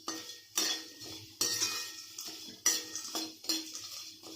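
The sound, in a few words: dry-roasting whole spices and cardamom in a pan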